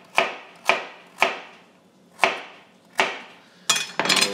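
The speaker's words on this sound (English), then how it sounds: "we're just going to make some cuts of carrot" A kitchen knife chops carrots on a cutting board in a home kitchen, making six crisp, evenly spaced thuds roughly half a second apart, then a quick flurry of faster cuts, close and clear without talk.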